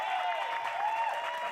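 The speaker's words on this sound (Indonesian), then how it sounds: "Beri tepuk tangan dulu dong." Audience applause, a short steady patter of clapping with faint voices mixed in.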